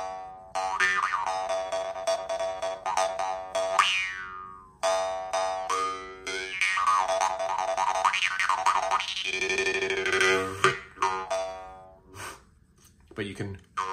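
A drymba jaw harp, freshly given a small repair adjustment, played up close: a loud, continuous twangy drone whose overtones sweep in wah-like arcs, broken into a few phrases by short pauses and ending in softer, fading twangs.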